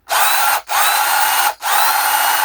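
A Bosch cordless drill whirs loudly in three close bursts, each run steady at high speed and separated by brief pauses.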